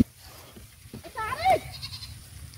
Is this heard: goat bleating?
yes